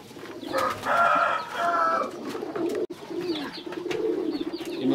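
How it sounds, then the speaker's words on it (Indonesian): Pigeons coo in a breeding loft of about 150 birds, several soft, throaty calls overlapping at close range over a murmuring background, with no speech. "Ini dia budidaya burung merpati yang isinya kurang sekitar lebih kurang 150 ekor."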